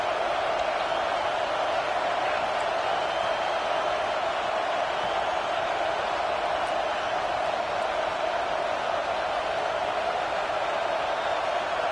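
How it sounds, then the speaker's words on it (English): Stadium crowd noise from a college football video game featuring the Gators, a steady, dense roar of cheering fans that holds at an even level for the whole stretch, distant and unbroken. "Here comes the crowd noise"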